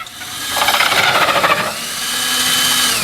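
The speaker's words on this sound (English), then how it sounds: "5-inch hole saw is all the way through" A close, loud 5-inch hole saw grinds through wood with a rough, pulsing cut for about a second, then spins more smoothly as the bit breaks free.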